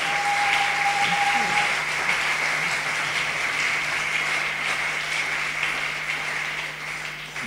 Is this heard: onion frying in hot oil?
no